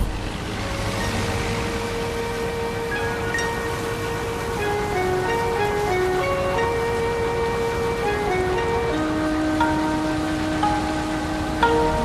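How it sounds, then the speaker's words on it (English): Steady broadband hiss of a heavy tropical downpour during a thunderstorm in the Mekong Delta, Vietnam, even and constant throughout, with gentle musical tones playing underneath. "Undaunted by the sudden tropical downpour, the journey continues."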